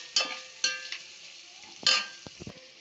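Onion and green chillies frying in oil in a pan while being stirred for bean rice: a soft sizzle under a few sharp scrapes and taps of the spoon against the pan, close, with no talking.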